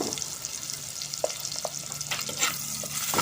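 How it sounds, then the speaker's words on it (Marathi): Slit green chillies, curry leaves and onion fry in hot oil, a close, continuous sizzle broken by a few sharp clicks and scrapes of stirring in the pan. "त्याच्यामध्ये मी ह्या उभ्या चिरलेल्या मिरच्या टाकते, थोडासा कढीपत्ता टाकते, हा कांदा टाकते"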